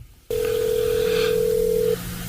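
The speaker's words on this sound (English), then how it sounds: "Am I calling you? Yeah, it's ringing." Outgoing phone call ringback: a single steady electronic tone sounds clearly for about a second and a half over faint background hum, then cuts off.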